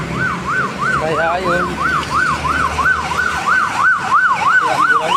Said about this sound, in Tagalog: ambulansya, siguro may yung hinahatid na pasyanta